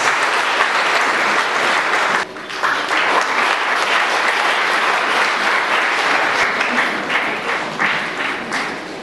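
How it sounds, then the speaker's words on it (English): A large audience at a synod college jubilee event gives loud, sustained applause that fills the room for several seconds with a brief dip early on. "Please give a big round of applause"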